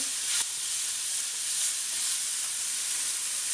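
Onions frying in a hot pan give a loud, continuous, bright hiss and sizzle, close up and steady, with a faint clink near the start and no talking.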